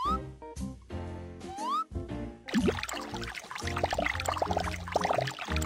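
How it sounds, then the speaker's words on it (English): Water pours and trickles to rinse soap bubbles off a cartoon character after a sponge wash, a steady splashing stream filling the second half over light music. "Wash the bubbles with water."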